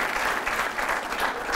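A studio audience at a late-night show breaks into steady, dense applause, many hands clapping close and loud throughout with no voices over it.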